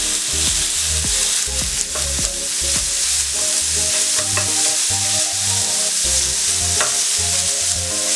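Pasta for a pesto pasta with bacon and cheese fries in a hot pan while being stirred, giving a loud, continuous sizzle broken by scraping and clattering utensil strokes, with no talking.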